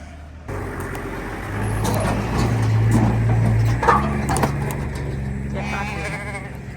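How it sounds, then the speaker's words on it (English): Hungry ewes bleat in a containment feeding pen on a drought-hit South Australian farm. Several drawn-out bleats overlap over a low engine rumble, with brief clinks and a person speaking nearby. "This is the sound of hungry sheep."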